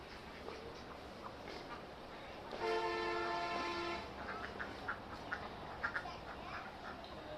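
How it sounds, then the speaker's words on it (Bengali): A duck gives one drawn-out nasal quack, followed by softer scattered quacks and rustling against a quiet outdoor background. "এই আমার হাঁসগুলি এসে পড়ছে এখন ওরা খাবার খাইতেছে"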